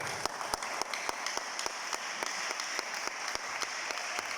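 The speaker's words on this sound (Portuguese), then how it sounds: "aplausos." An audience applauds during a church service, a steady wash of clapping with a few sharper claps standing out, with no voices over it.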